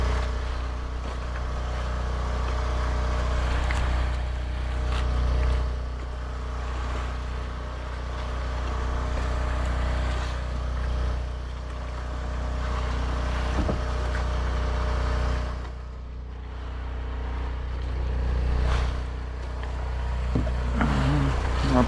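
A motorized outrigger fishing boat (bangka), out squid fishing at night on the West Philippine Sea, drones steadily: a low continuous engine rumble with slight swells, with water and hull noise and no talk.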